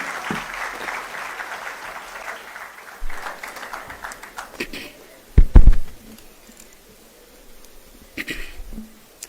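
Applause from a crowd in a university engineering college auditorium at a Punjab government event, rising in several loud bursts over a steady clapping bed, with a voice over a PA heard at times.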